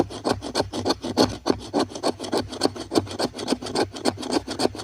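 The spine of a knife scrapes resin-rich wood in fast rhythmic rasping strokes, about three per second, loud and close and steady throughout with no talking.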